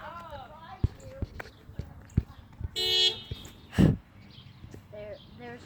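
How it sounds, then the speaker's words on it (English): Car horns honking in a long birthday drive-by line of cars: one sustained honk stands out among shorter taps, footsteps and people talking nearby. "It says honk to say happy birthday."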